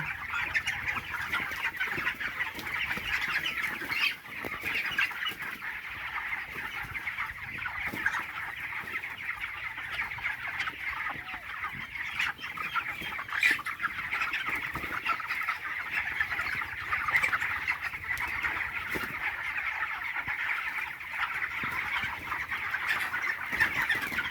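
Inside a broiler farm shed, a large flock of 23-day-old chickens keeps up a constant, busy clucking and chirping din, evenly loud throughout with a few sharper calls poking out.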